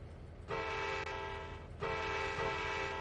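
A train in the Trainz 2019 railway game sounds its horn as it prepares to back up, two sustained blasts with a short gap between, over a low rumble.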